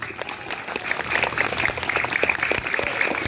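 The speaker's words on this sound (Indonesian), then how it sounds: "Tepuk tangan buat saya." Applause from an audience at an Isra' Mi'raj commemoration at SD Negeri Kalitengah 1, an Indonesian elementary school, steady scattered clapping filling the room with no voices over it.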